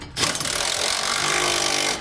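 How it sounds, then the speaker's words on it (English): A power tool with a 15/16 socket tightens bolts on an underbed kit in a 2017 Chevrolet Silverado bed, giving a loud, continuous buzzing rattle that lasts about two seconds and then stops abruptly. "The larger bolts will tighten with a 15/16 socket."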